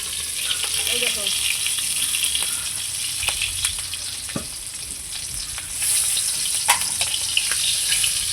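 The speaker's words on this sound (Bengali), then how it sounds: "বাদবাকি মাছগুলো আমি ঠিক একইভাবে ভেজে নিচ্ছি" Catfish (magur) pieces fry in a pan with a steady, dense sizzle throughout, close and loud, with occasional faint clinks and no speech.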